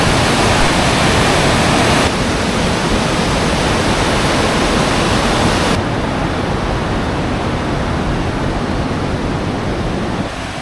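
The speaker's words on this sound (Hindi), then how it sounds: "देखो ज़रा पानी का फ्लो देखो" A stream at a nature park in Kasol rushes in a loud, steady wash of flowing water close by, with no voices.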